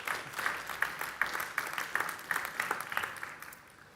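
Applause from an audience at a trade fair on the show floor, fairly faint, with steady clapping and a few sharper individual claps standing out.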